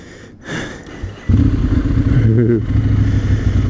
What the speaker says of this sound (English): Oh man, Ducati Monster.